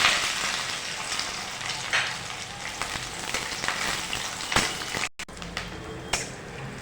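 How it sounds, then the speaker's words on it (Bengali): Chopped onion fries with crushed garlic in a pan for an okra masala fry, a dense close sizzle broken by scrapes and clinks of stirring. "রসুনটা হালকা করে নেড়ে নিয়ে দিয়ে দেব কেটে রাখা পেঁয়াজ কুচিটা।"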